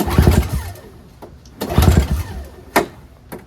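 A NOMA two-stroke snowblower engine, a 4.5 single-stage 21-inch model with a dry fuel tank, is pulled over by its recoil starter in three close, loud bursts with brief gaps, no ignition following.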